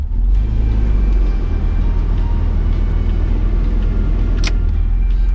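A Mazda MX3 with the K8 V6 engine idles at about 750 rpm with the air conditioning switched on, making a steady, loud low rumble close by, with one brief sharp click partway through.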